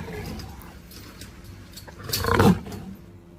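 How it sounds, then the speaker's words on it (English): A lion gives one short roar that swells and breaks off, fairly close and moderately loud over a dim background, with no one talking. "L for lion."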